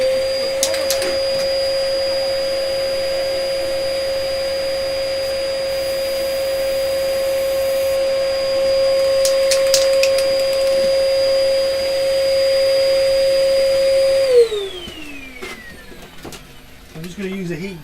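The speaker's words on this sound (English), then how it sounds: "I'll turn the extraction on, so there's going to be a bit of noise for a few seconds" A workshop spray-booth extraction fan runs as a loud steady drone with a constant hum, then winds down and fades near the end.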